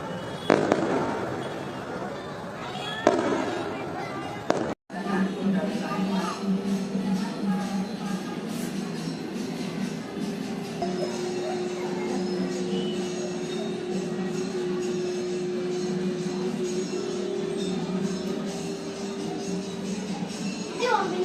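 Firecrackers bursting during a Karthigai Deepam festival night in Trichy, a dense, continuous crackle of loud pops and bangs with a brief gap near the start, then sustained rapid bursts under faint crowd noise.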